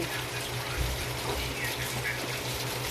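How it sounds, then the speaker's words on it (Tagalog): Water poured into a cooking pot of simmering meat seasoned with pepper powder and bay leaves, a steady close rushing gush lasting throughout. "Lagyan natin ng konting tubig yan guys."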